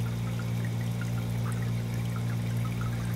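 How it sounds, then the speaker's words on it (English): Pumped water flowing steadily out of the end of an ECM barrel machining system, a continuous close trickling stream over a loud constant electrical hum, with no talking. "you can see we've got a pretty good amount of water flow coming out of the end of the system"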